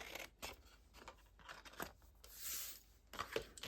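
Soft, quiet snips of scissors through stiff card paper, a series of short cuts with small pauses, close up and faint.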